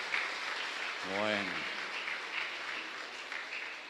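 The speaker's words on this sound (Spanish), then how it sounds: "Un fuerte aplauso para todos los abuelos, entonces." A congregation at Mass in a chapel applauds the grandparents with sustained clapping throughout, and a voice briefly speaks over it.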